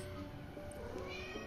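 A mother cat meows near her kittens, a steady, fairly loud cry held over a constant background hum indoors.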